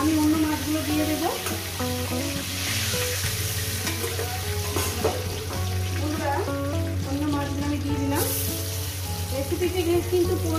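Pieces of lailon tika fish fry in oil with a dense, continuous sizzle and crackle, close and fairly loud, with other tonal background sounds running underneath.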